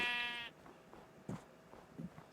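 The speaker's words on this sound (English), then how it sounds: "very fortunate to come upon those sheep when we did" A sheep in a video game gives one short, clear bleat at the start, then only faint clicks and soft game sounds follow.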